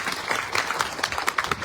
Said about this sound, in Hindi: इनके लिए जोरदार तालियां बजाइए एक बार